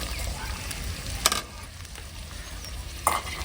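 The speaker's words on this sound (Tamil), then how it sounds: "வெங்காயமும் இஞ்சி பூண்டும் எப்படி வதங்கிட்டு இருக்காங்க" Onion, ginger and garlic sauté in hot oil with a steady, close sizzle, broken twice by short scraping clinks of a stirring utensil against the pan.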